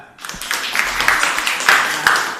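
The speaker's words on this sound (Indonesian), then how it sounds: "Tepuk tangan dulu untuk kelompok 2." Students in a classroom give a short burst of applause for a group, uneven scattered clapping close by, with chatter mixed in.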